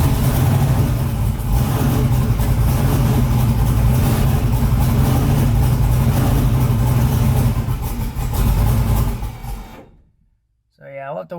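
A twin-turbo LS-swapped car engine runs loudly with a throttle held slightly open, a deep rumbling idle and revs that cut off abruptly near the end before someone speaks.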